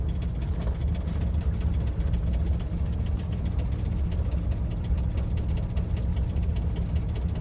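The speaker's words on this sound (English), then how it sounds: "I know they hear this car start up every once in a while" A Volkswagen's engine idles steadily with a deep, rumbling aftermarket exhaust note, constant and fairly close, with no voices.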